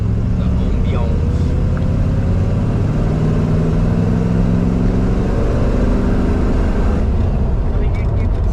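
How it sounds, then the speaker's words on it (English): An Aston Martin DBS V8 cruises at about 40 mph with a loud, constant engine drone and road rumble from inside the cabin, while people talk over it. "the noise, the car, the general ambience of an Aston."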